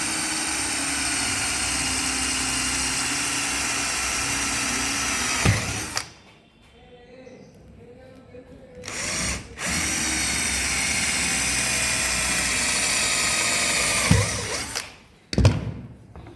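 An electric drill boring a hole through the thickness of a board clamped at a bench for a minifix fitting, a loud, steady whining drone that stops, gives a short burst, runs again at length, then ends in brief spurts.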